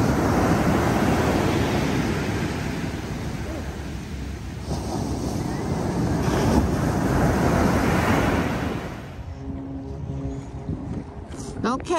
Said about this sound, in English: today we're back at the beach